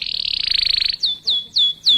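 A sooty-headed bulbul chirps close by, first a rapid trilling burst and then four bright, clipped descending calls in an even rhythm, with no talking.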